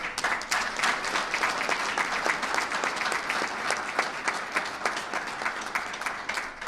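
Dense, steady applause for state police members fills the whole stretch at a New York governor's event on curbing gun violence and crime, with sustained clapping from a sizeable audience.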